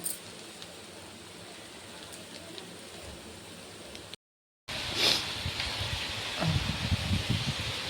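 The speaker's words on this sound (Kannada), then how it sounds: "ಓ ಎಷ್ಟು ಜೋರು ಮಳೆ." Heavy rain with wind pours down with a soft, continuous hiss, broken briefly by a short gap, with some rustling and low rumbling toward the end.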